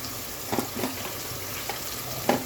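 Half-fried onion sizzling in a pan with frozen ginger paste, stirred a few times for a chicken chilli dish; a soft steady fry broken by brief clinks of the spoon.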